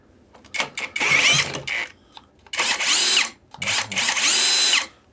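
Cordless screwdriver whirs in several loud bursts of varying length, stopping and restarting, close by during repair work on a non-running Minsk motorcycle.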